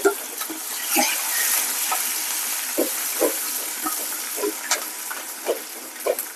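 Onions frying in a pan with green chillies, a hissing sizzle under repeated short scraping and tapping strokes of a spoon, close and fairly loud.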